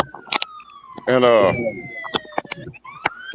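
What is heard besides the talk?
sirens outside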